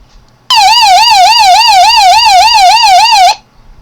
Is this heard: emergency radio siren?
yes